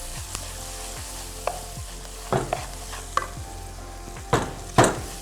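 Spices and crushed red chili with turmeric and garam masala sautéing over high flame, a steady background sizzle broken by several sharp clanks and scrapes of a spoon stirring in the pan, no voices.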